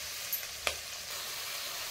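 Cherry tomatoes hit hot oil in a pan with a brief soft sizzle and a light clatter, settling into a steady, faint frying hiss with no voices.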